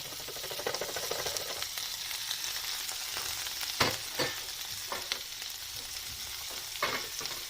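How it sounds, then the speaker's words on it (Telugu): Capsicum and onions frying in butter, a steady close sizzle broken by a few sharp scraping stirs, with no voices over it. "ఈ బటర్లో బాగా ఫ్రై చేయండి."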